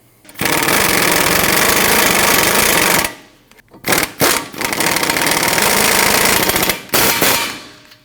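A power tool driving the Allen bolts on a brake caliper bracket of a 2013-2019 Ford Escape, a loud close buzzing rattle in long bursts with short pauses and brief stops and restarts between them.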